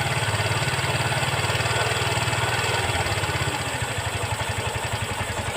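A Yamaha Byson motorcycle engine running after its bottom end was rebuilt with a new set of piston rings, exhaust fitted, idling with a steady low putter that stays even, then shifts to a slightly slower, more distinct thumping pulse.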